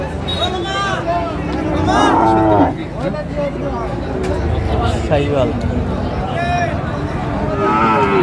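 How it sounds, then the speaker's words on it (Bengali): Sahiwal breed bulls and bull calves at a Shariatpur livestock market moo several times with rising, wavering calls, surrounded by a lively crowd and people talking nearby. "একই সাম একই কোয়ালিটি বেশ সুন্দর গরুগুলো"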